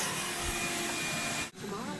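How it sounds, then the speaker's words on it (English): A vacuum cleaner drones steadily at close range over carpet, with a brief dip in the noise near the end before the motor roar resumes. "now we want to do a first vac"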